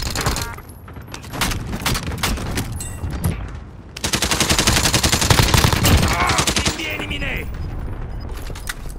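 Rapid automatic weapon fire in Call of Duty Warzone Resurgence, loud close bursts broken by short gaps, then a long sustained stream of shots, with French in-game voice lines mixed in.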